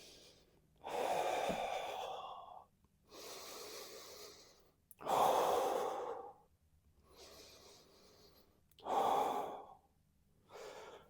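Audible breathing during a spinal rotation exercise, slow alternating breaths with forceful, airy out-breaths like fogging a mirror, close and clear, several cycles with brief pauses between.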